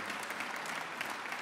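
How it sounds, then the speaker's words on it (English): An audience applauds for John B. Brown at a Duke Jazz Ensemble concert: a steady, dense wash of clapping, moderately distant and fairly quiet, with no voices over it. "let's give a warm round of applause for Mr."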